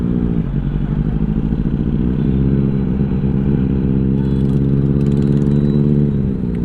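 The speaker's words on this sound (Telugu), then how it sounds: "ఎవరైనా సరే ఇట్లా అటెన్షన్ చేస్తారు బైక్ సౌండ్ విన్నారంటే" A Benelli 600i motorcycle with a loud aftermarket exhaust idles and revs close by, producing a deep, continuous rumbling drone with a rapid clattering pulse that holds steady throughout, with no voices.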